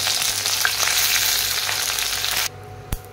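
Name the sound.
hibiscus leaves and flowers sizzling in hot oil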